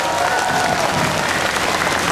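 A large crowd of worshippers at a religious sermon gathering claps in a dense, steady wash of applause, loud and close, filling the whole stretch without pause.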